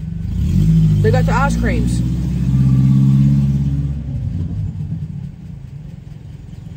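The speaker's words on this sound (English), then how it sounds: "I hate it when men rev up their motors thinking they're cool." A small pickup truck engine revs loud and near, a sustained rising-and-falling roar that swells then settles toward an idle rumble, with people talking over it.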